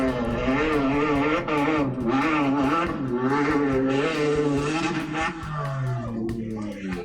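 A Honda V6-powered four-seat SCA car drives over bumps, its engine rising and falling in pitch as it revs, loud and close, continuous with rapid throttle changes.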